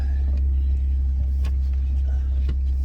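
A 2022 Toyota Supra 3.0 engine runs at a low, steady rumble, heard from inside the car with faint clicks and shuffling.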